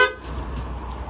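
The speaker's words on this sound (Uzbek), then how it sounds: "Hop, signal qo'yib berganmiz." A horn fitted to a tuned Damas minivan sounds in one short honk at the very start, then cuts off, leaving low background noise.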